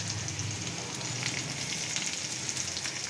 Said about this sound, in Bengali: পেঁয়াজ কুচিটা দিয়ে আমি আর একটু ভালো করে নেড়ে চেড়ে ভেজে নেবো পেঁয়াজটা